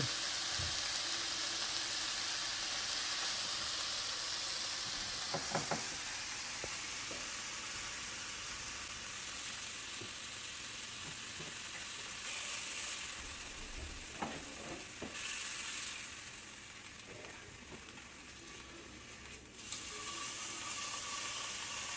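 Pork chops searing in a hot pan, a loud continuous sizzle and hiss with occasional scrapes and bursts of spitting, close and steady throughout with no talk.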